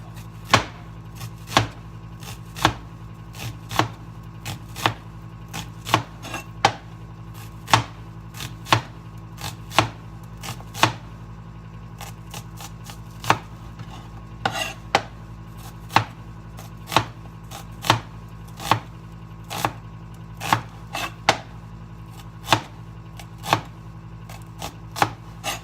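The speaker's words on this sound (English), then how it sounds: "I'm gonna chop up some onions." Onions are chopped with a knife on a board, producing a long run of crisp, evenly paced chops, close and distinct, over a low steady hum.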